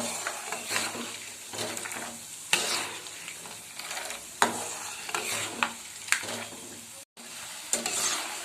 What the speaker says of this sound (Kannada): ಶೇಂಗಾ ಬೀಜ ಸ್ವಲ್ಪ ಲೋ ಫ್ಲೇಮಲ್ಲಿ ಏನಾಗಬೇಕಿದು ಚೆನ್ನಾಗಿ ಫ್ರೈ ಆಗಬೇಕು